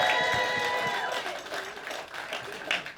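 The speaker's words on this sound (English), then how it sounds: "And a round of applause for the bricklayer," Comedy club audience in Blackpool clapping and faintly cheering after a joke, loud at first then thinning out and fading, with some murmured voices.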